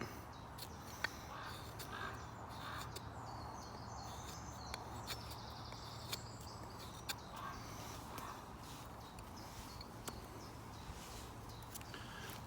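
A crow caws several times in the distance over steady outdoor background noise, its calls sharp and intermittent.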